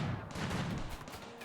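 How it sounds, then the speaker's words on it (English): Explosions in the colony-building video game Rimworld roar as a dense, continuous wall of loud booming noise with no pauses over the short stretch. "Apologies for the loud explosion sounds."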